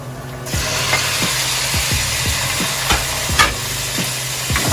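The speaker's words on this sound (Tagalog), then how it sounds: "Then, add na natin yung pork." Pork dropped into a hot pan sets off a bright, steady sizzle, with repeated scraping stir strokes and utensil knocks close by, and no one speaking.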